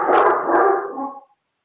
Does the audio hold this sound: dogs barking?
yes